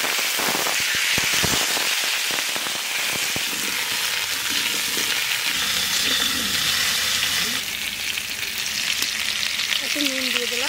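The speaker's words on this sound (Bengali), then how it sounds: "না আলু ভেজে নেব।" Potatoes sizzle and crackle loudly in mustard oil over a village-style cooking fire, dense popping spatter throughout, with faint talk underneath toward the end.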